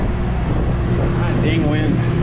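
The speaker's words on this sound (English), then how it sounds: "dang wind." Wind buffets a microphone outdoors beside a Caterpillar 3412 diesel engine under repair for a failed head gasket, a steady low rumble filling the whole stretch with a faint higher whine near the end.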